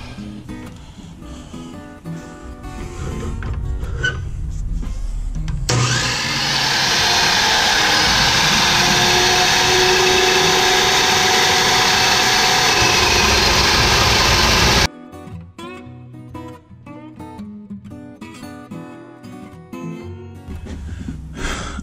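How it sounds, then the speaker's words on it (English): Cold cut saw slicing through steel, a loud, steady grinding whine lasting about nine seconds, bracketed by quieter workshop handling noises before and after. "I'm using my new fabbed up piece from my abrasive chop saw on this new cold cut saw."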